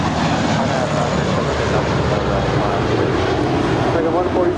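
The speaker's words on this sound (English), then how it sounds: "The Air Tahiti Nui Dreamliner making that left-hand turn. She will head on over for a departure on 25 right here on the south side." An Air Tahiti Nui Boeing Dreamliner turns toward departure on runway 25 right at Los Angeles International Airport. Its jet engines give a loud, steady broadband roar, with talk and radio chatter mixed in.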